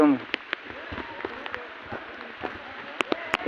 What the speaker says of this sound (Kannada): ಮಳೆ ಜೋರ ಆಯ್ತಪ್ಪ ಮತ್ತೆ